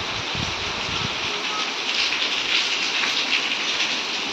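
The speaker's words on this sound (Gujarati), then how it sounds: "વરસાદ જો ભાઈ જોરદાર શરૂ થઈ ગયો છે" Heavy rain pours in Palitana during a windy storm, making a dense, steady hiss of drops hitting nearby surfaces with no voices.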